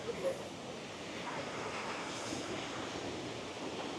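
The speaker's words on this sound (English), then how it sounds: "So as you can see, here are the Kravica Waterfalls." Kravica Waterfalls in Bosnia and Herzegovina send up a steady, broad rushing roar of falling water. It holds a constant, moderately distant level throughout, with a little wind buffeting mixed in.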